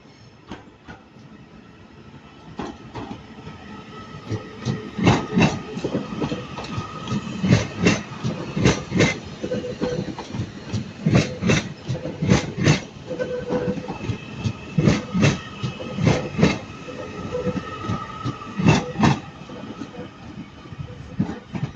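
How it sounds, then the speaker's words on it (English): A Northern class 331 electric train pulls out of Manchester Piccadilly station, wheels clicking over rail joints in a rhythmic clickety-clack that grows louder and faster as it departs, with no voices heard. "And our leaving is 331109 with the 1136 Northern Service to Crewe."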